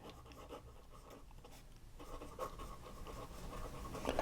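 A 14K fine italic Franklin-Christoph fountain pen nib, crisply ground, drags across paper in quiet, steady scratchy strokes with a faint catching texture, growing slightly louder toward the end.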